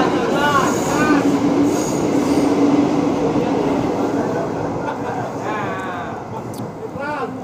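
A passing train near Cengkareng, loud and close, with a continuous rumble of wheels on rails, rhythmic clatter and recurring high wheel squeals that ease off slightly toward the end.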